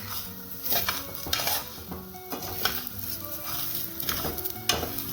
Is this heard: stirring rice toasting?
yes